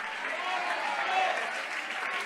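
Steady applause from a church congregation during a Spanish-language worship service, a continuous dense patter of many hands clapping at moderate volume for about two seconds.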